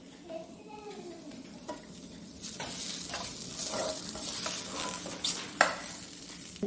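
French fries frying in oil in a home kitchen, a soft continuous sizzle that grows fuller midway, with stirring scrapes and a sharp clink of a utensil against the pan.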